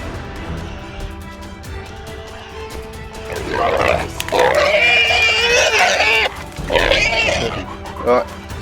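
Wild pig grunting and squealing loudly in the Australian bush as hunting dogs chase and catch it, with harsh bursts in the middle and end, and people talking and shouting over it.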